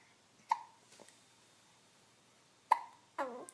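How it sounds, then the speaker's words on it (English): A baby hiccups in soft, sharp, isolated bursts, three distinct hiccups spaced a couple of seconds apart, close and quiet, with a small cooing squeak after the last one. "look at those hiccups and the cute noises you make"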